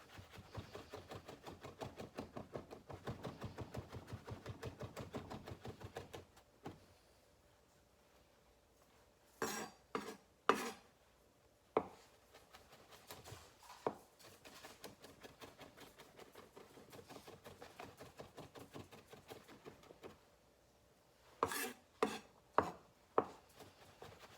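Knife mincing garlic on a cutting board during a culinary skills test: rapid, steady chopping taps for several seconds, a pause, then scattered sharp chops and a few final clusters of near, crisp hits.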